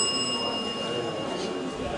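An old, slightly broken debate timer bell rings with a steady, sustained metallic tone that lasts about two seconds at moderate loudness, with faint room noise underneath.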